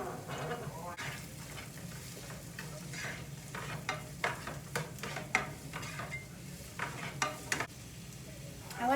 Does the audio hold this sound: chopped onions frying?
yes